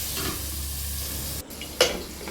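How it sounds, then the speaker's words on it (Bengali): Pointed gourd (potol) coated in salt and turmeric fries in a pan, giving off a steady, close broadband sizzle with one sharp utensil clink near the end. "নুন হলুদ মাখিয়ে চাপা দিয়ে দিয়ে ভাজতে থাকবো যাতে পটলগুলো পুরোপুরি সিদ্ধ হয়ে যায় আর ভাজাও হয়ে যায়"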